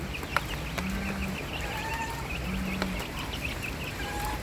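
Thai chickens and domestic chickens cluck and crow faintly at a distance on a rainy farm beside a duck pen, with a few short calls scattered over a steady background hiss.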